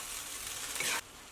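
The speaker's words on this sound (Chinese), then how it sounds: "把它给翻炒均匀" Steamed shredded potatoes are stir-fried with garlic slices and scallion whites in a wok, giving a soft steady sizzle that cuts off abruptly near the end before a brief clatter of stirring.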